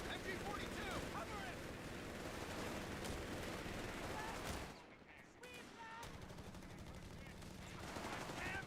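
MG42 machine gun fire in the game Company of Heroes 3, long rapid rattling bursts mixed with battle noise, briefly dropping off before resuming, with a commentator talking over it.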